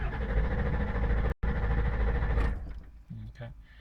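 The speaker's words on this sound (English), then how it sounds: "Now I'll try to start it." A Ford F350 with the 7.3L Power Stroke diesel cranks with a steady mechanical churning and does not catch, then cuts out into quieter clicks and a short voice.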